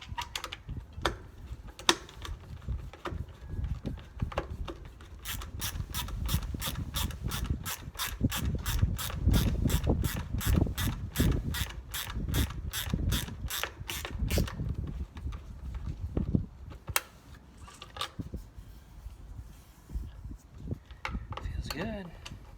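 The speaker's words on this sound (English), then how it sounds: "These handy little ratcheting box ends are nice." A ratcheting box-end wrench turns on a trailer LED tail light fitting, giving a long run of quick, even, close clicks mid-way, with scattered single clicks and faint low background sound around it.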